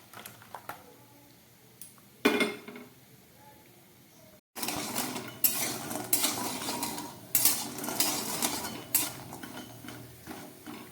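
Pots and utensils clatter as half-boiled potatoes come off the stove, with sharp metallic knocks, a short pause, then a busier run of clanks and scrapes nearby.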